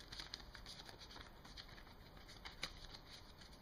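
Tarot cards are shuffled close by, a soft continuous riffling patter with a few sharper flicks, faint and steady throughout.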